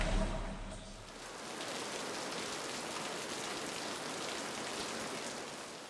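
Steady rain falling outdoors, a dense even hiss that continues unbroken throughout, fairly close and with no voices.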